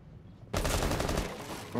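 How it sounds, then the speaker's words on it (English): Gunfire in Rainbow Six Siege begins abruptly after a quiet moment, and a rapid automatic burst rattles on loudly and up close for over a second. "He's shooting from right here."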